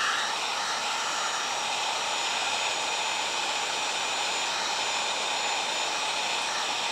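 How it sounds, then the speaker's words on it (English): Heat gun running on its high heat setting in a cold workshop, a steady, even airflow whoosh and motor hum that holds constant for the whole clip with no talking. "I'll put this heat gun on high heat"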